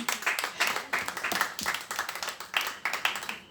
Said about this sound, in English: Can everyone clap hands?